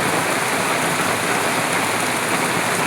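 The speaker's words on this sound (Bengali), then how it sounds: "এই যে মাটিতে এমনি পড়তেছে, দেখতেই পাচ্ছেন অনেক জোরে, মানে অনেক বড় বড় ফোঁটা আর কি" Heavy rain pours onto open ground in big, hard-falling drops, a dense, steady roar of wash and spatter that fills the whole stretch without a break.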